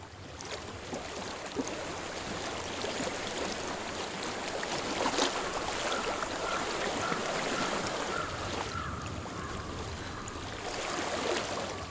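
Flowing water of a stream in the video game Hellblade: Senua's Sacrifice, a steady, full rushing wash that continues unbroken and fairly loud throughout.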